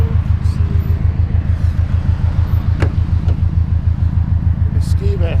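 A Subaru idling close by at a petrol station, a steady low rumble filling the whole stretch, with someone talking over it and brief higher noises passing in the background.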